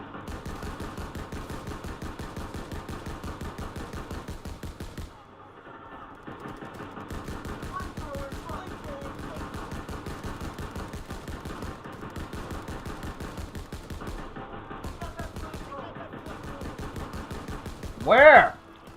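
Rapid automatic gunfire in a shooter video game, a long, steady stream of evenly spaced shots with brief pauses and one louder burst near the end, while a player talks over it.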